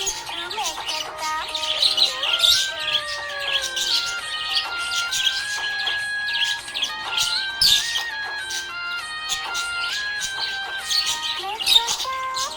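A budgie chirps in busy, high twittering bursts that run through a melodic sung tune with backing music, fairly loud and continuous.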